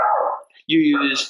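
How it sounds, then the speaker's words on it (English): A dog barks twice in quick succession nearby, loud and sharp, while a person talks. "that's my dog barking"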